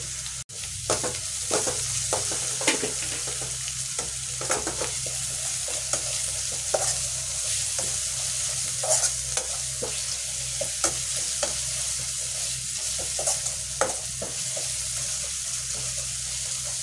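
Spice paste (masala) for a chitol fish curry sautés in hot oil in a pan, a steady bright sizzle broken by repeated scraping strokes of a spatula as it is stirred, close and continuous.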